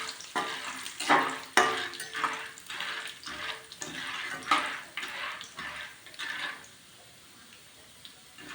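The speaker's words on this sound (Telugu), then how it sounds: "ఇలా వేగాలి. పాప్కార్న్ అవుతున్నాయి." Popcorn kernels frying in hot oil in a pan while making masala popcorn at home: rhythmic sizzling swells and scraping stirs, close and fairly quiet, easing off toward the end.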